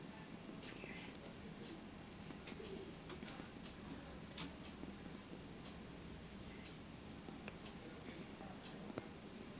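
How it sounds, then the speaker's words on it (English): A pigeon or dove coos faintly at a distance against a low background hiss, with soft repeated calls and light ticking, very quiet overall. "Do you hear the bird?"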